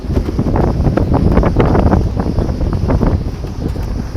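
Wind blowing outdoors at a race track, buffeting the microphone in a loud, continuous rumbling roar with irregular gusts throughout and no talking.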